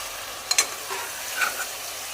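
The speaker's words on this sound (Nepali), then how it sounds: "मैले अब यसलाई मजाले एकदमै रातो हुने गरेर मैले भुट्छु, अनि यसको साथसाथै प्याज पनि भुटिन्छ" Pieces of mutton and onion fry in a pan, giving a soft, steady sizzle broken by a few light clinks of stirring.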